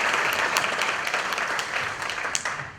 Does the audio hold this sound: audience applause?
yes